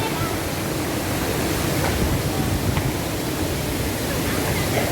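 Waterfall at Bulawan Falls, a steady broadband roar of falling water that holds even and continuous throughout, loud and close with no pauses.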